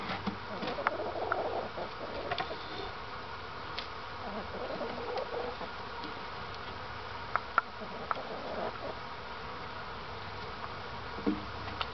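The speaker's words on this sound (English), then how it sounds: "There are bees everywhere." Honey bees swarm around a new beehive after being removed from a house, their dense buzzing steady and close throughout, with individual insects darting past now and then and no voices.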